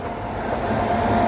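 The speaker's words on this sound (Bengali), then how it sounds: "ট্রেন আমাদের এখন ঢুকছে পুরী স্টেশনে।" The Shalimar–Puri superfast express rolls into Puri station with a steady low rumble of wheels and carriages, loud and continuous throughout.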